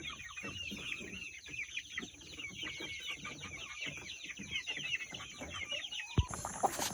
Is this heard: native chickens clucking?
yes